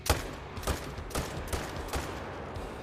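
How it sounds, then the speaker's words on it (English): Rapid gunfire from a weapon in the hunting game Call of the Wild, a quick regular string of about six or seven loud shots emptying a magazine. "just empty a whole mag on him real quick"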